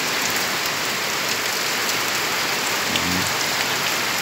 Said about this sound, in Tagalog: Lakas-lakas na yung ulan guys.